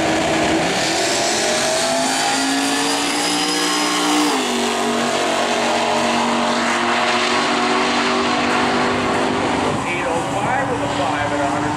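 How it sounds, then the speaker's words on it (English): Drag race cars from the daily driver class roar around a corner at an Indianapolis drag event, a loud continuous engine drone with shifting pitch, while a commentator talks over it. "Daily driver class coming around the corner now."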